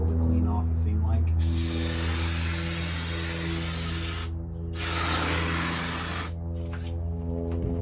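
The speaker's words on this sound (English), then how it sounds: "I like spraying thin coats on first, then coming back once it's had a chance to set and spray a thicker coat." Spray foam insulation hisses steadily from a gun as it coats the inside of a steel enclosed trailer for a camper conversion, in two long loud bursts with a short pause between, over a constant low hum.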